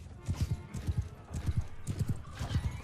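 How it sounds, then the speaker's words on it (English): Horses galloping in a Mount & Blade II: Bannerlord battle as horse archers charge, rapid triplet hoofbeats drumming in a steady rhythm at moderate volume. "Horse archers begin the charge."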